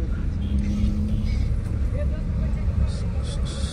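A car engine hums steadily from inside the moving vehicle while it looks for parking near Shani Shingnapur temple, with people talking over the low drone.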